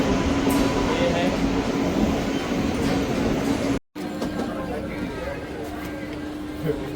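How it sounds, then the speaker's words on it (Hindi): A train pulling out of Bilaspur Junction, a steady broadband rumble of carriages rolling along the rails with a faint hum, continuous and fairly loud from inside, briefly cut off partway through. "तो दोस्तों हमारा ट्रेन छूट गया है बिलासपुर से"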